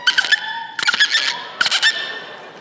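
A girl imitates a dolphin with three bursts of shrill, rapid, chattering squeaks, close and clear with short pauses between them.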